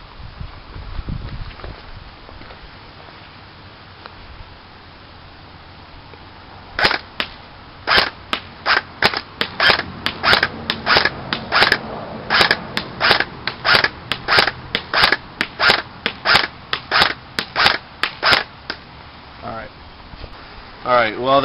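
A Classic Army SL8 airsoft rifle fired on semi-auto at a 75-foot target, about two dozen sharp snapping shots in a fairly even rhythm after a quiet opening, each crisp and close.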